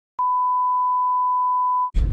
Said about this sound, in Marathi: सर्व बीप करून टाकीन पण टाकी